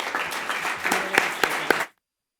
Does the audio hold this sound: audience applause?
yes